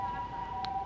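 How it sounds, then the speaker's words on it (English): Ambulance siren going past in the distance, a steady wailing tone sustained through the short moment with faint background noise. "the ambulances that are going by"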